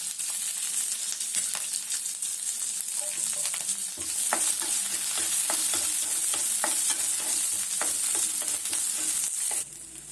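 Cumin, pepper, fenugreek, garlic and onions frying in a pan, a steady close sizzle with stirring scrapes and taps throughout.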